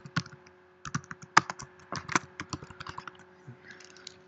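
Keys clack on a Mac computer keyboard in short irregular bursts, close and fairly crisp, with brief pauses between clusters of strokes and a steady faint hum underneath.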